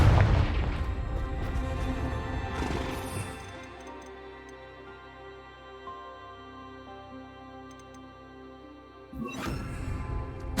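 Confringo fire-blast spell in Hogwarts Legacy: a loud booming burst opens, followed by a fading ringing tail and a quieter stretch, then a second sharp blast near the end.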